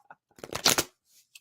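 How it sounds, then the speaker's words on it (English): Playing cards are shuffled vigorously in one brief, close riffle lasting under a second, followed by a few faint soft ticks. "I'm really shuffling these up so that Charlene doesn't get the same cards"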